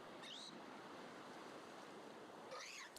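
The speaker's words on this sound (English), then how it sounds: "It's just the sound of the ocean." Steady ocean waves and surf wash on without a break as a broad, continuous rush, with faint chirping calls appearing at the start and again near the end.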